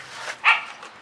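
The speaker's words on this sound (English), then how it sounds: "The dogs are playing." Playful dogs let out one short, sharp bark in the middle of a quiet moment, with a faint yip trailing off; nobody speaks.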